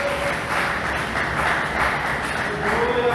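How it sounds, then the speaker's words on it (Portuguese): A church congregation applauds for Jesus during a worship service, a dense, steady wash of many hands clapping that stays loud and even throughout. "dê uma salva de palmas para Jesus com alegria"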